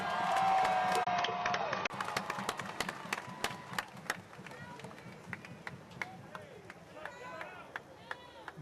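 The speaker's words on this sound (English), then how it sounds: "Please give a very, very loud round of applause." A crowd at a George Floyd rally in Houston clapping and cheering, scattered claps and crowd noise running under a voice speaking over the sound system.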